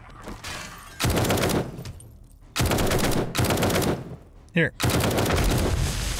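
Bursts of rapid gunfire and booming explosions in the video game 7 Days to Die, loud and clustered, with a short spoken word between volleys.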